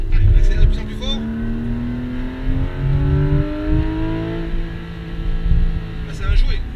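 A 500 hp Porsche GT3 RS engine revs hard on a circuit, its pitch climbing steadily through the gears as it accelerates, loud and close, with brief voices at the start and end.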